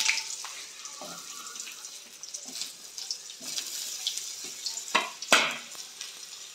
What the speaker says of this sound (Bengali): আলুগুলো এবার ভাজার জন্য দিয়ে দেবো